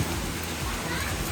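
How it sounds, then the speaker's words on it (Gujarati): Steady rain pours down during the first rain of the season, a dense even hiss throughout, with children's voices audible in the background. "જો અત્યારે વરસાદ આવી રહ્યો છે."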